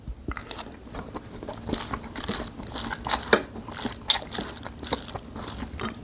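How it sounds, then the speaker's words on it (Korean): Close-up chewing of a rice meal, with repeated crunchy bites and wet mouth sounds in an uneven rhythm and no talking. "밥 계속 먹을게요."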